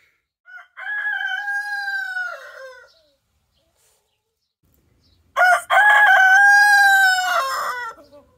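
Two loud rooster crows ring out in a hen enclosure, each a drawn-out call lasting about two seconds, separated by a few seconds of quiet, close and clear with no talk.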